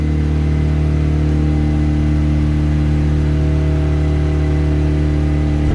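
Car engine idling steadily on a dyno, a constant loud mechanical drone with a low hum and whir, unchanging throughout with no speech.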